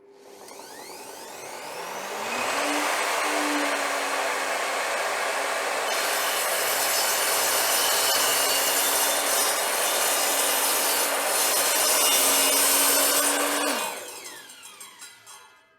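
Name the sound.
circular saw with Trend blade cutting melamine board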